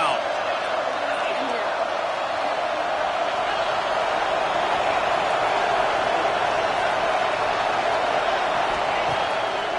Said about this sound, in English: The noise is this crowd doing everything they can to help the defense bear down on 3rd down